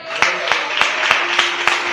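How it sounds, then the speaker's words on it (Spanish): A church congregation claps in unison during a sermon, six evenly spaced sharp claps in a steady rhythm, loud and close, over a sustained background of voices and tone. "Aplauda al Rey de esta gente."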